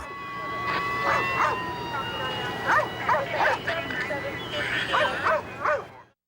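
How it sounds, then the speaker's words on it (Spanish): A police dog with a Prince George's County officer barks repeatedly in short, sharp bursts, mixed with yips and whimpers, close and loud over a steady background hum during a search in the dark. "Un oficial del condado de Prince George llegó con un perro policía y comenzó a buscar a McLean en la oscuridad"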